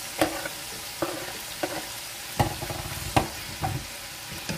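Onion fries with bangus fish in soy sauce in a pan, a steady close sizzle punctuated by about six rhythmic stirring scrapes and knocks, no voices.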